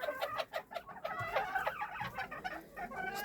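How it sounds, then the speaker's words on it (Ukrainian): Bantam chickens cluck and call repeatedly nearby, a bantam rooster's insistent clucking calls to the hens to lay mixed with hen sounds, busy and close. "цей півник сидить постійно і кличе курочок нестися"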